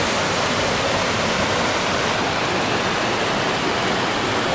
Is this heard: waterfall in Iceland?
yes